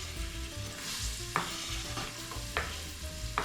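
Two onions drop into hot oil for a Beninese fish stew and sizzle steadily, a soft crackling hiss broken by a few sharp scraping clicks of a utensil, close and moderately quiet.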